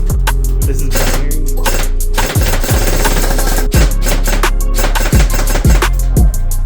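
Airsoft rifle built from Zion Arms R15 parts fires in binary trigger mode at an Airsoft GI range, loud rapid paired shots in dense rattling strings with brief gaps between bursts.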